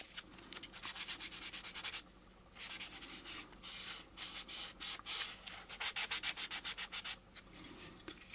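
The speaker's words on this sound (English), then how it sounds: "I'm going to sand along here because there's that divot there." Light, rhythmic sanding strokes rasp across a plastic model kit part along a divot, close and quiet, in steady back-and-forth bursts with a short pause partway through.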